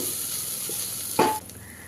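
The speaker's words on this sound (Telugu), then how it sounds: "ఇప్పుడు మామిడికాయ తురుము కూడా వేసేసుకుని మరి కాసేపు ఫ్రై చేసుకోవాలి" Grated raw mango sizzles in a hot pan while being stirred, a soft steady frying hiss with a brief louder scrape of the spoon partway through, close and without speech.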